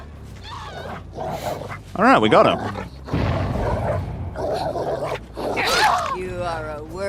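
A dog growls, snarls and whimpers in the horror game Dead by Daylight, bursts of aggressive canine sounds and roars mixed with game effects while someone talks throughout.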